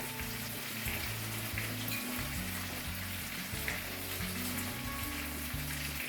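Spices cooking in a pan with salt and black pepper give off a soft, steady sizzle and crackle, a fairly quiet frying hiss under a low hum, with no one talking.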